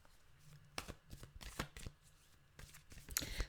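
Tarot cards are shuffled by hand in several quick riffling bursts with short pauses between them, close and crisp in a quiet room.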